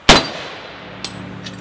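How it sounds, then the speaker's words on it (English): An M1 Garand rifle fires steel-cased 30-06 M2 ball ammunition at an AR500 steel plate, giving one loud sharp report followed about a second later by a fainter metallic clang and a quieter ring. "gonna be shooting the M1 Garand with a steel cased ammo that was attracted to a magnet right here"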